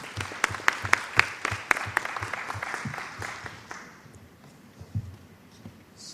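A small audience at a collegiate research paper competition applauds: distinct, fairly close hand claps in a quick, uneven patter that thin out and fade after a few seconds, leaving quiet room noise.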